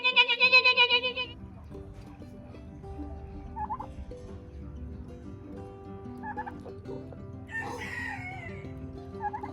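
Guinea fowl being chased by a person give a burst of loud, rapid rhythmic calls at the start, then fade into quieter scattered squawks and rustling, with a few shrill calls and flapping near the end.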